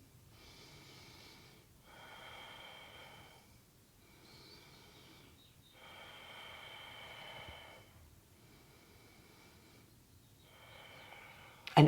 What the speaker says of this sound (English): I'm going to stop talking and indulge myself with deep breathing.